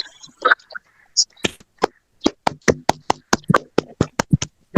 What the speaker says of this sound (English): Open your mics, all of you, and clap hands.